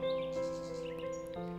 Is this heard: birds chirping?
yes